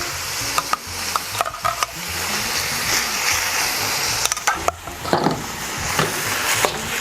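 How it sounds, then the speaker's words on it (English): Minced meat and Palm corned beef sizzling in a pan for Filipino sweet spaghetti, with steady frying hiss and repeated scraping and stirring of a utensil against the pan, close and continuous without talk. "we're just going to saute this for a couple of minutes or so"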